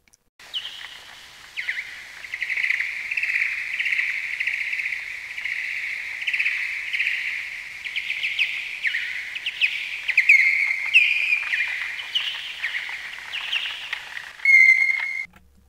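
A bird recorded on the CSUN campus sings a long run of bright, repeated whistled phrases, clear and fairly close, ending with a few sharp higher notes.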